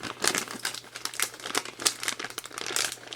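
Rapid crinkling and crackling of thin plastic, close and fairly loud, in irregular bursts as an MRE ration pouch is pressed and sealed.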